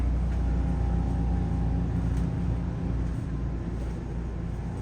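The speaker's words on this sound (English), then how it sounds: "Now you can hear the generator back here right now" A generator runs beneath the floor of a small Class A RV with a power drop-down bunk, a steady, muffled low-pitched drone that holds an even level throughout.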